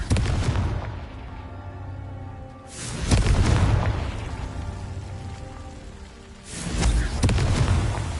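Several heavy, booming blasts from the Confringo fire spell in the video game Hogwarts Legacy, arriving a few seconds apart, each swelling and then rumbling away.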